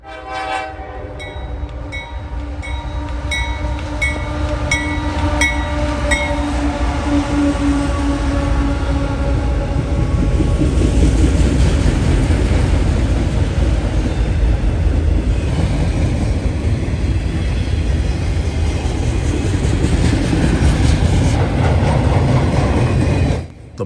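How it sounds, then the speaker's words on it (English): CSX freight rack train M209 heading southbound with an AC-44 lead locomotive, loaded out of Walbridge, Ohio: repeated horn blasts at the start, then a loud, steady rumble of wheels and cars rolling past close by. "we observe rack train M209, who is coming loaded out of Walbridge, Ohio, to Louisville, Kentucky, heads southbound with an AC-44 leader"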